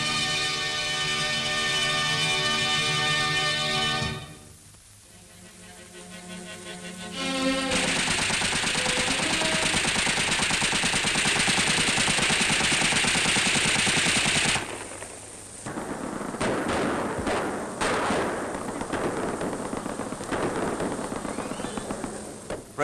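Sustained machine-gun bursts and rattling gunfire with heavier booms echo through Athens in December 1944 amid ELAS fighting near Monument Hill and the Parthenon, loud and dense, pausing briefly between long volleys.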